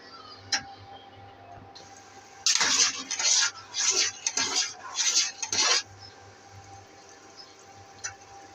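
A spoon clatters and scrapes against a cooking pot of lentil dal with potatoes and roasted cumin powder, a close burst of metallic stirring knocks in the middle, with quieter clinks before and after.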